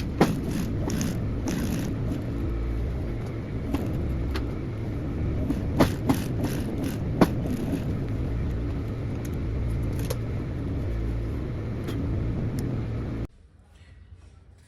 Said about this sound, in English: we take it to the sewing machine now and to sew it